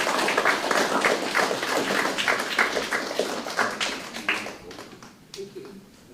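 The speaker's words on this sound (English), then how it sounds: "please, ladies and gentlemen, just a big clap" Mourners at a funeral service break into a big round of applause, dense overlapping claps that hold steady and then thin out and fade near the end, with faint voices beneath.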